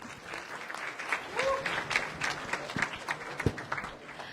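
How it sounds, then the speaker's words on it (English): An audience at a youth meeting applauds to welcome the MC, a brisk burst of clapping with a few louder individual claps and faint murmuring voices mixed in. "Please give a big round of applause."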